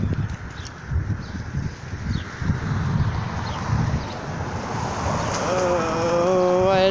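Cold autumn wind gusts steadily across the microphone outdoors at a bus stop on a Monday morning, a continuous broad rushing roar that swells and holds, with a faint tonal whine rising near the end.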